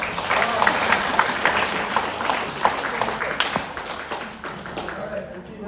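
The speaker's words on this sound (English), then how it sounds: "Everybody give Alexander a round of applause." An elementary school audience claps for a student called up to the front, giving a dense, sustained round of applause that fades slightly toward the end.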